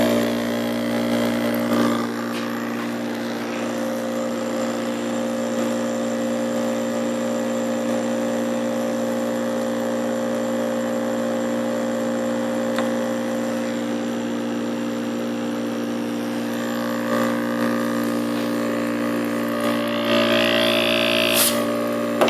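A struggling refrigerator compressor trying to run gives a steady, loud droning hum with a tonal whine that holds unbroken for over twenty seconds, heard close with no talking.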